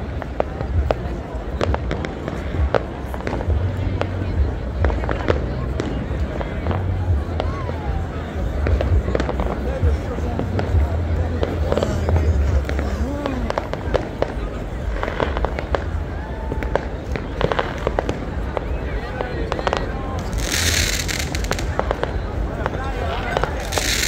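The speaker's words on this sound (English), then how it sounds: "It's a Roman candle. You hold it in your hand, it shoots up." Roman candle fireworks and other New Year's Eve fireworks go off all around, a dense continuous crackle and pop with frequent sharp bursts, both near and far. People talk under them throughout.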